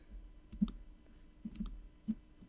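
Mouse clicks while editing supports in the Cura 3D-printing slicer, a handful of faint, sharp single clicks spaced irregularly in a quiet room with no talking.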